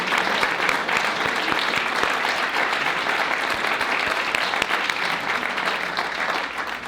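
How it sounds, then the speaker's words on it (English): Sustained audience applause, a dense steady wash of many hands clapping throughout, loud and continuous. "Give a round of applause for everyone who came out today."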